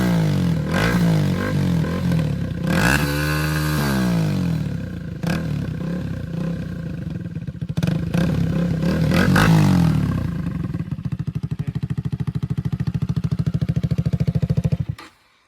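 Loud exhaust of a third-generation KTM Duke 250 motorcycle on the outskirts of Hyderabad: close, rumbling idle broken by several sharp revs that rise and fall, ending with a steady blatting tone that cuts off abruptly.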